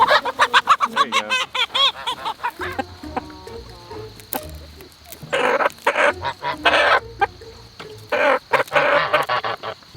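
Hens cluck and squawk loudly up close in a farmyard flock, with rapid bursts of calls interrupted by brief pauses and several overlapping birds.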